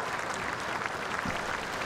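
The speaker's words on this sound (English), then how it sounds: "He is getting a warm hand of applause here for his home crowd in Brussels" A home crowd claps warmly for a Belgian rider at a show jumping grand prix in Brussels, with steady, dense applause throughout at moderate distance.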